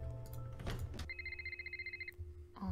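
A telephone rings in the Nancy Drew: Secrets Can Kill Remastered video game, one trilling electronic burst that pulses rapidly for about a second, following a brief mechanical clatter, close and clear with no speech.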